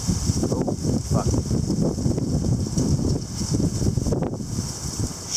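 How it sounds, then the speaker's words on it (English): A strong gust of wind during a storm with heavy rainfall roars loudly and steadily against the microphone, buffeting continuously and close, with no clear talk. "Strong gust."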